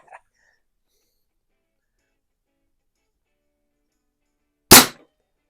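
A single sharp crack from a Hatsan Model 95 spring air rifle fired into a piece of wood, one loud close shot after near silence.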